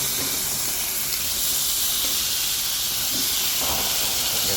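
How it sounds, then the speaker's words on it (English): A porterhouse beef steak, marinated, flames up on the back heat of a BBQ grill and sizzles with a steady, bright hiss that goes on throughout without any voices. "I can hear this thing sizzling away."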